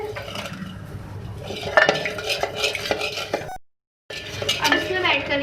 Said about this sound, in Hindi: अब इसको हम नमक डालेंगे और मिक्स करेंगे